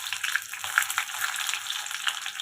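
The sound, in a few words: garlic frying in oil with mustard seeds and cumin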